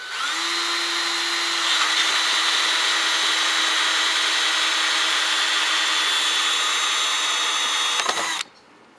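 A power drill drilling a hole in a drum runs steadily and loudly for about eight seconds, with a high whine and grinding hiss, then stops abruptly.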